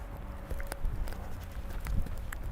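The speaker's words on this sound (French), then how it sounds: "on va reprendre le galop comme ça sans rien demander" A horse gallops in an arena during a riding lesson, its rhythmic hoofbeats thudding moderately close on soft footing, with faint background noise.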